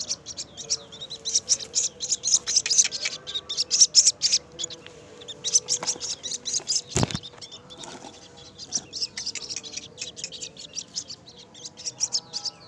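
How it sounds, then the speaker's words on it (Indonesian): Baby ruwak-ruwak (bombok) birds chirp in quick, high, repeated bursts while being hand-fed mealworms, the chicks' calls close and busy throughout. "Anakan burung ruwak-ruwak."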